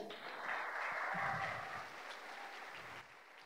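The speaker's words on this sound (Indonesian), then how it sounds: "Mohon aplaus dulu ya." An audience at a business opportunity presentation applauds, a steady wash of clapping at moderate distance that swells early and tapers off toward the end.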